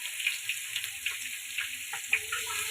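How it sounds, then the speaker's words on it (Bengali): Carrot and paneer fry in a pan with a soft, steady high sizzle broken by light crackles and small stirring knocks, close by and fairly quiet, with no talk. "এবং এরপরে আমরা গাজর ও পনিরটাকেও ভেজে নেব।"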